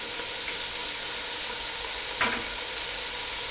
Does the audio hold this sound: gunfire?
no